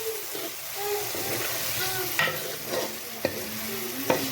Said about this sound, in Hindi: अभी टमाटर और हरी मिर्च को भी भून लेंगे